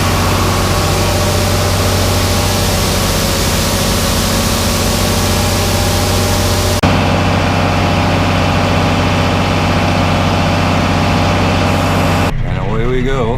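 A heavy tractor engine runs steadily and loudly throughout, a constant low rumble with faint voices underneath and an abrupt shift in tone near the end.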